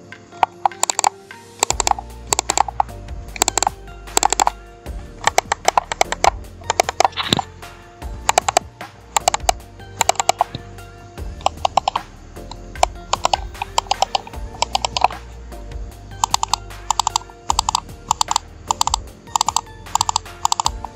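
Arctic Fox gaming mouse buttons click in soft, light, thin taps, coming in uneven irregular bursts of quick presses with short pauses, close up and with no talking.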